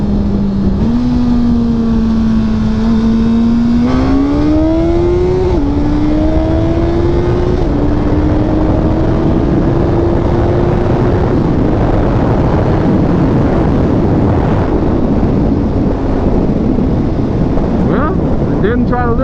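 Loud engine drone of a 2022 Suzuki Hayabusa motorcycle accelerating hard in first gear, pitch climbing in steps through the revs, heavy wind rush over the microphone throughout.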